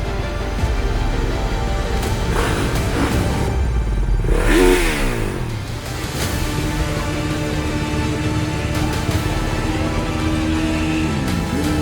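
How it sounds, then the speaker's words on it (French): Enduro motorcycle at the Enduropale 2022 sound level check, engine idling then revving hard with a sharp rising and falling sweep midway, loud and close, followed by steady rough running. "faire passer la moto au contrôle de sonomètre"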